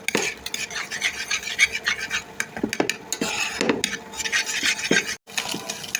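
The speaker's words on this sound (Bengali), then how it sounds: "ডিমটা ঝুরঝুরে করে ভেজে নেব।" Egg is scrambled and fried in a wok, with a metal spatula repeatedly scraping and knocking against the pan in an irregular stirring rhythm over a faint sizzle.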